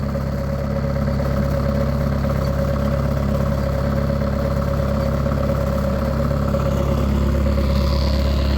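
A mini excavator engine idles steadily and close by, a continuous low diesel rumble with a faint mechanical clatter and no talking.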